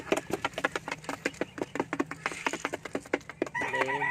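Laying hens clucking busily at feeding time, a dense run of short, rhythmic clucks and calls close by, with a drawn-out squawk near the end.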